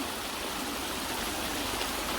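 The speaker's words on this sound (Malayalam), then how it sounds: "ആളുകൾ മോട്ടർ അടിക്കും അതിൻ്റെ ഓസാണ് കേട്ടോ ഈ പോകുന്നത്" Steady rushing of water flowing from a pump hose, a continuous broadband hiss with no pauses, fairly close and moderately loud.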